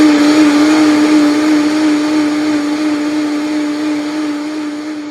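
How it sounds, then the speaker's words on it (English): A blender runs steadily, blending hemp seeds with coconut milk, a loud constant motor whir with a strong low hum that eases off slightly toward the end. "we'll blend the seeds up with the coconut milk"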